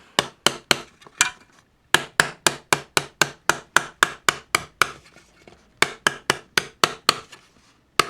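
Metal being forged with the ball end of a hammer to smooth out waves in a forged T-rex footprint piece, sharp ringing blows in quick regular bursts separated by short pauses, close and loud.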